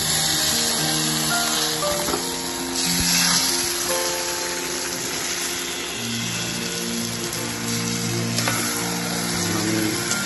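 Taro leaves (kochu shak) tossed into spiced oil in a wok, frying with a loud, steady sizzle and hiss, close by, with occasional stirring scrapes and a faint tonal hum underneath.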